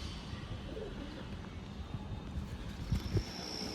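Low pigeon coos from a season's flying pigeon held in the hand, faint and soft against a steady background hiss, with a couple of brief louder calls near the end.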